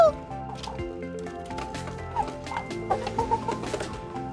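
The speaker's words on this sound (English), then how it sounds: "Wow, there's so many different kinds of chickens in here." Chickens of several kinds cluck in a pen, with repeated close clucks and calls over a quiet background.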